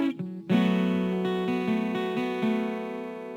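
Acoustic guitar fingerpicking the second riff of a song: a short muted lead-in, then a steady run of plucked notes in a rolling three-note pattern, ringing close and clear and played alone.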